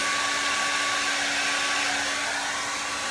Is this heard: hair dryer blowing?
yes